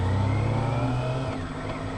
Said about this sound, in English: I'm not sure if you can hear the engine accelerating from him through the ambient microphone